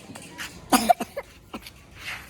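A person coughs a few times in quick succession, close and moderately loud, with a short quieter coda and no speech.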